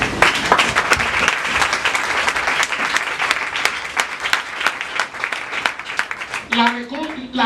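A church congregation applauds in a dense, sustained wave of clapping that fills the room, close and loud, with voices mixed in and a brief rise of speech near the end.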